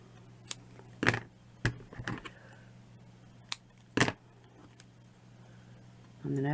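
Small scissors snip fabric while making a Victorian mini flower, giving a few brief, quiet, spaced-out cuts close by. A voice starts up at the end.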